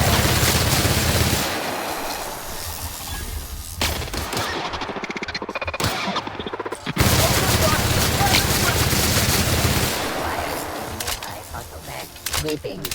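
Gunfire in The Outer Worlds video game, bursts of rapid shots in a loud, busy firefight with a brief lull in the middle before the shooting resumes.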